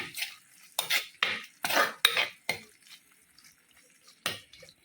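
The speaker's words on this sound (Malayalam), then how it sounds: "കടുക് ചതച്ചിട്ടു ഇങ്ങനെ ഇളക്കി കൊടുക്കാം" Crushed mustard seeds being stirred into a dish with a metal spoon, a series of sharp scraping clinks against the vessel in uneven bursts, close and fairly loud, fading to softer taps at the end.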